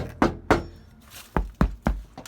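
Knuckles rap on the door of a 1995 Ford F150 fitted with sound deadener, giving two dull knocks, a pause, then three or four more, close and muffled with little ring.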